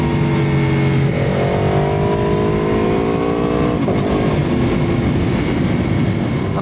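An Aprilia Tuono V4 1100 Factory motorcycle engine climbs through its revs in a rising whine, shifts, and pulls again, loud and close under a steady road roar.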